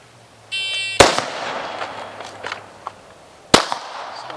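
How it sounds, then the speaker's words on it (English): Two loud, sharp shots from a rifle and pistol shooting drill, about two and a half seconds apart, each followed by a ringing echo. A beeping tone comes just before the first shot. "Rhythm drill. Six shot rhythm."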